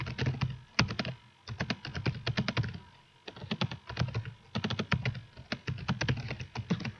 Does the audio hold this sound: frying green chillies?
no